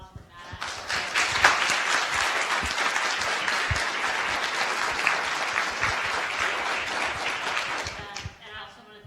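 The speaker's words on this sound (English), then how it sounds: "please let's give a round of applause for Matt." Applause from the audience at a community meeting on a curbside organics program, a dense wash of many hands clapping that swells quickly and holds steady for about seven seconds before tapering off, with a few voices underneath.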